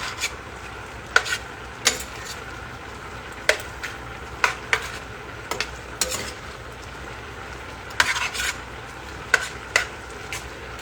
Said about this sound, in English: Saute this for a few minutes.